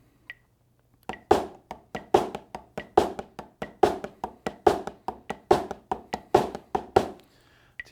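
Percussion practice pattern of steady sixteenth-note drum strokes with an accent on the second sixteenth of each beat, sharp dry hits in an even rhythm, close and alone after a brief pause.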